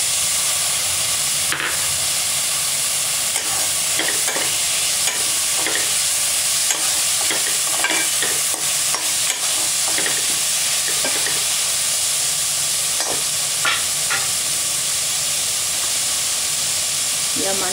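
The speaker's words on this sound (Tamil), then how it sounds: "இப்போ தக்காளி போட்டுக்கலாம்." Tomatoes frying and being stirred in a pan for mutton paya curry, a steady loud hiss and sizzle with scattered clicks and scrapes of stirring throughout, close up and without talk.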